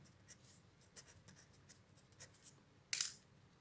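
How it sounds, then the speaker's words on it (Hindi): Pen scratching across paper while probability answers are written out, soft irregular strokes with one sharper scrape near the end, close and quiet with no talking. "यहां लिख देता हूं मैं डायरेक्ट"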